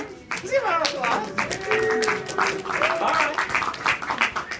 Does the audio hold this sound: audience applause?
yes